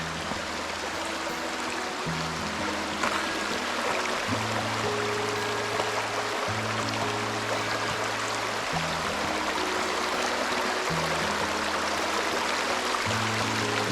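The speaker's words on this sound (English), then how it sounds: "Now, this is our creek." Continuous rushing creek water, a dense steady flow close by, with a low hum underneath and no talking.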